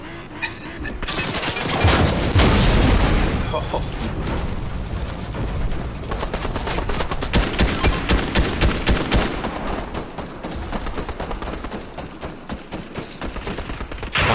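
Sustained gunfire aimed at a house in a video game, loud overlapping bursts and a heavy boom early on, then rapid rhythmic automatic fire continuing to the end.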